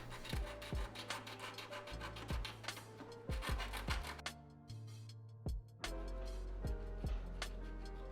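Someone sands or files down the gasket cutouts on the plate of an Epomaker keyboard, making repeated close rubbing, rasping strokes in an uneven rhythm with occasional sharp taps and knocks.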